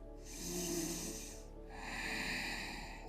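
Deep breathing during a yoga session for the gluteal muscles, two long airy breaths close to the microphone, fairly loud and steady with no talking.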